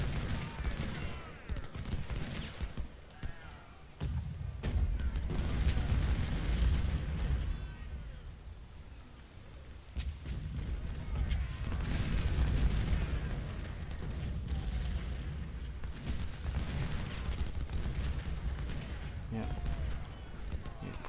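Dense battle noise from the Civil War strategy game Ultimate General at Thoroughfare Gap, with massed musket volleys and booming artillery rolling on continuously, loud at times, under a player's talk.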